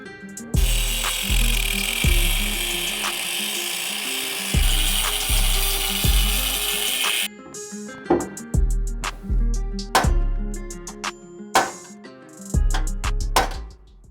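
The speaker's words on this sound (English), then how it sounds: "just had to cut away at those bolts" Cutting tool working on bolts holding brackets to an OBS Chevy truck frame during a 4-link suspension install, a loud rhythmic grinding rasp in repeated bursts, then sharper intermittent clanks and scrapes, with no talking.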